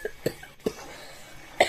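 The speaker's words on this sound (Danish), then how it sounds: "Undskyld, jeg hoster," A few short, dry coughs from someone with a cold, spaced about half a second apart, close and fairly quiet over a faint background.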